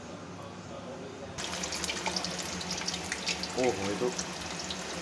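Shredded potato nest pressed under a strainer sizzling in hot oil for aloo tokri, a continuous close crackling hiss that swells partway in, with a brief spoken exclamation over it.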